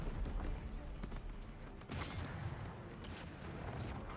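Rapid bursts of gunfire crackle and pop amid a busy, noisy Party Animals game soundscape, with a louder blast partway through.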